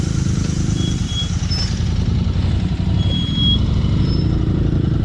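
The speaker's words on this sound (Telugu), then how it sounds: "అక్కడ లారీ కదిలిపోతున్నాయి." Lorries moving on a high mountain pass road near Baralacha Pass in Ladakh, a steady loud low engine rumble and drone close by, continuous throughout with no talk.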